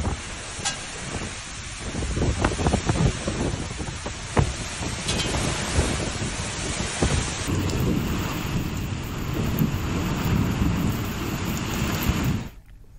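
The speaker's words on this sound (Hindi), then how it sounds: "छत्तीसगढ़ के कई जिलों में मौसम का मिजाज बदला है और बारिश हो रही है तेज हवाओं के साथ।" Heavy rain pours steadily during a storm in Chhattisgarh, with strong gusting wind buffeting the microphone and thunder rumbling through; the downpour is loud and continuous, with no talking.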